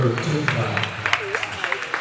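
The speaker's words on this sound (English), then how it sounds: "giving the Knights a round of applause" Spectators at a boys high school basketball game applaud the Knights as a steady, moderately distant patter of clapping, while a commentator talks over it.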